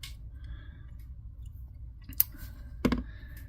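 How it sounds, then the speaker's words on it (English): A couple of sharp little snips as scissors cut the thread tag end while tying a fishing jig, two brief crisp clicks close up against a quiet room, no talk. "we'll snip off that little tag end."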